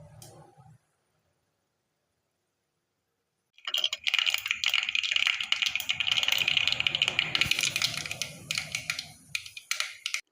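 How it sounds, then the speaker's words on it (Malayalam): Mustard seeds crackling and popping in hot oil in a pan, a dense burst of sharp sputtering that starts abruptly after a quiet pause and continues busily, fading near the end. "അപ്പോൾ കടുക് പൊട്ടി ഏകദേശം ആയിട്ടുണ്ട്."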